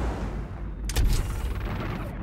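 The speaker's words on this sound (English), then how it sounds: "Launched your missiles." Missiles launch from a spaceship in EVE: Valkyrie as a sharp whooshing burst over a constant roaring engine and combat rumble, loud and up close.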